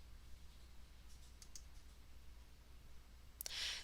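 A short burst of computer mouse clicks near the end, in a quiet room with a low hum, while breakout groups are managed in Blackboard Collaborate Ultra.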